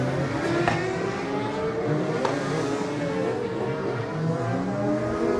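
A road racing motorcycle at the Cookstown 100 road races sets off from the start, its engine revving hard with a steady high-pitched whine that climbs in pitch and stays loud throughout.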